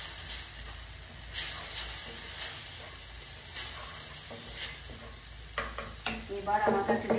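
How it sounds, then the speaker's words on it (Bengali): Turmeric, salt and cumin powder are stir-fried in a pan for a baingan bahar eggplant dish, making a low, continuous sizzle broken by repeated stirring scrapes. Louder clattering builds near the end, all fairly quiet and close. "এবার এখানে আমি একটু হলুদ দিয়ে দেবো, একটু নুন দিয়ে দেবো, একটু জিরে পাউডার দিয়ে দেবো, দিয়ে একটুখানি কষাতে থাকবো।"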